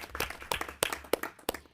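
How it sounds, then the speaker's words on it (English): A few people clap at a nursing board meeting, a sparse and uneven scattering of individual claps, fairly faint and close, fading out quickly. "So I think all of these schools should have a round of applause."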